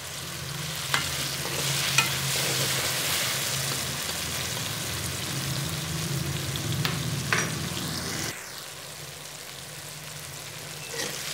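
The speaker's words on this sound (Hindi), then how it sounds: "जब मसाला भून रहे होते हैं" Masala roasting in a pan for chicken kachnar, a soft continuous sizzle with occasional spatula taps and scrapes that drops abruptly quieter partway through, close and with no talking.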